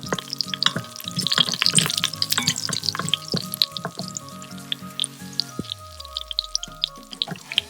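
Cumin seeds fry in hot oil in an outdoor garden kitchen, crackling and popping in dense close bursts over a steady sizzle, with faint stirring and no voices.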